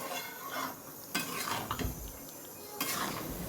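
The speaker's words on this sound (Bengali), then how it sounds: "নেড়ে দেবো।" Cooked chicken is stirred in a pan, with spoon scrapes and metal clinks against the pan over a faint background sizzle, a few distinct strokes close by.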